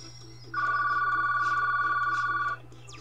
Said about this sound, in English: sorry about the phone going off